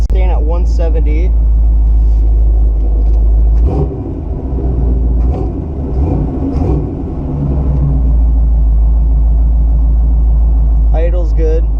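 A 1969 Buick Special Deluxe engine idles steadily with a low rumble at 170 degrees after fuel issues, someone talking over it throughout.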